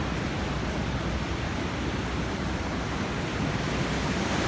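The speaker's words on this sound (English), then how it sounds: "huge waves" Big ocean waves breaking on the shore after rain, a continuous loud roar of surf with steady broadband wash and no voices.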